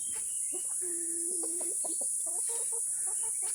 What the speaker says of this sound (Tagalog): so ito yung iba yan yung mga black australorps natin.